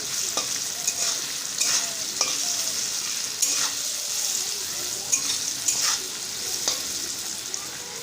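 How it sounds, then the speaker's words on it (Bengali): Potatoes frying with green chilli in a pan over high flame, a constant bright sizzle with regular spatula scrapes and knocks, close up and uninterrupted by speech. "কাঁচা লঙ্কাটা দিয়ে ভালো করে ভেজে নিতে হবে আলুটা"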